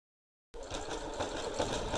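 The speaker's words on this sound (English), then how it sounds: "Okay, so now, next step is I'm going to top stitch around my pocket." A sewing machine top-stitches around a flapped welt pocket, starting abruptly after a half-second of silence and then running as a steady, close mechanical whir with a fine rattle, with no talking.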